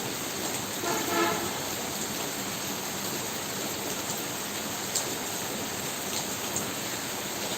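Heavy rain pours down steadily in a Punjab village, a dense, even hiss filling the whole stretch with a few faint taps and no voices.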